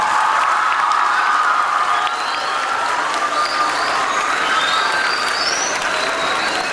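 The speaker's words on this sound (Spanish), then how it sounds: "Un aplauso fuerte para ustedes" Audience at a school opening event applauds loudly, a dense sustained wash of clapping with a few faint cheers and no clear voices throughout.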